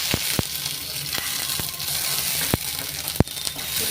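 Washed wheat grains roasting in half a spoon of oil on a tava: a steady sizzle with sharp scraping clicks of stirring scattered through it, fairly close.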